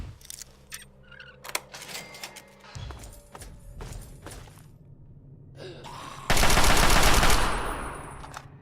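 Turret gunfire in Fallout 3: a few separate sharp shots ring out over low ambient hum, followed by a loud, dense burst of rapid fire that fades away.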